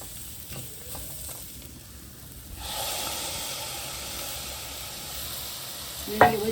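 Tomatoes tipped into a hot pan with chillies set off a steady sizzle that swells partway through and holds as a broad, even hiss, close, ending with a sharp clink.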